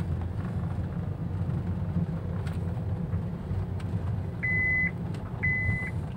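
Two steady electronic warning tones from a 2013 Honda Freed type S facelift, the unfastened-seatbelt alert, sound briefly one after another over a constant low engine or cabin hum.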